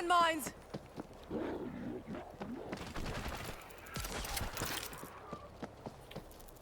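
Gunfire from the zombie shooter World War Z, with dense bursts of shots and rapid fire running through the stretch, loud and close, mixed with other game effects while a player talks over it.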